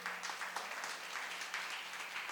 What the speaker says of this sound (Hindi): तो जो आप लोगों ने उदारता दिखाई है उसके लिए एक बार स्वयं सब ताली बजा लो।